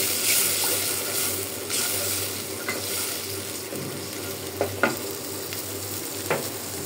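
Masala for a taro stolon curry frying in a pan, a steady broad sizzle throughout, with occasional light clicks and scrapes of a spoon stirring near the pan.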